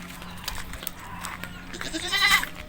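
A goat bleats faintly toward the end over a low, steady background hum, with soft scattered noises earlier.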